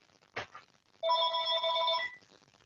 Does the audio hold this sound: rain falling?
no